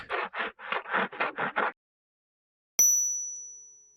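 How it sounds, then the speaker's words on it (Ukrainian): A single bell strike, the third bell at a Gogol theatre, rings out clearly and decays slowly over about a second, after a run of seven quick, even scraping or rustling bursts and a short silence. "пролунав третій дзвоник."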